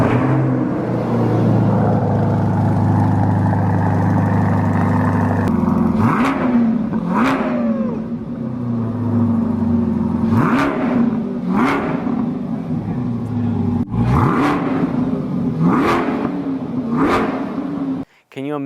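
A Chevrolet Corvette C8 RR with a custom exhaust idles with a deep steady drone, then snaps through a series of sharp revs, about eight quick blips spaced a second or two apart, loud and close, with someone talking over parts of it.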